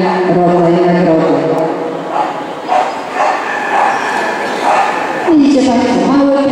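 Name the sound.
small dogs barking at a show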